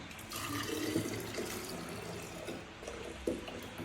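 Water runs steadily from a tap or is poured while a cocktail is being made, a continuous splashing flow with a couple of brief sharper splashes, close and moderately loud.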